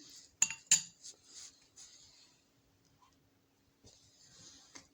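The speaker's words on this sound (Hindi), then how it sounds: "इसको फिर आप अच्छी तरह से मिक्स कर लें।" A spoon stirs castor oil into onion juice in a small dish: several quick metallic clinks and scrapes close by, then a pause and a few more light taps, with no talking.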